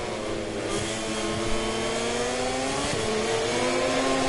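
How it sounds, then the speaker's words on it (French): Racing motorcycle engine screaming during a televised race on the final lap, a loud sustained high-revving whine with rising and falling pitch sweeps as it shifts gears, no commentary over it. "cette moto qui stoppe tout le temps"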